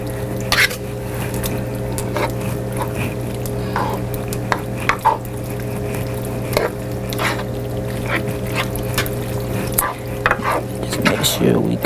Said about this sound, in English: So we're going to just stir this mixture until it's all blended in.